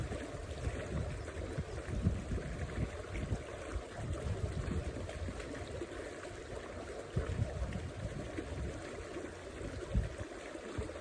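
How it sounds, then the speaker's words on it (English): A waterfall in the Scottish Highlands rushes steadily, a continuous broadband wash of falling water with soft gurgling variations, heard from a moderate distance with no voices. "Extremely peaceful listening to this waterfall."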